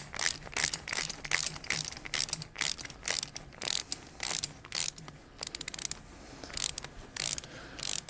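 Ratcheting wrench clicks as an intake manifold clamp is tightened on a Harley-Davidson Shovelhead engine, a rapid, uneven series of close metallic ratchet strokes with brief pauses.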